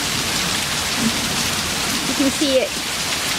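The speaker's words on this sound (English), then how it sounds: "we've got some pretty serious rain here." Heavy rain pours down in Auburn, Georgia, a dense, steady hiss of drops hitting the ground close by, while someone speaks briefly over it.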